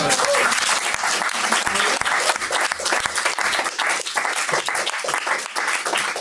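An audience claps and applauds loudly and continuously, a dense wash of hand claps filling the room throughout.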